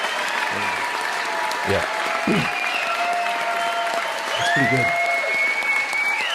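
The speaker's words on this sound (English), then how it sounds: "So everybody give Howard a round of applause" Audience applause at a live community stream event, a steady wash of clapping under a voice talking over it.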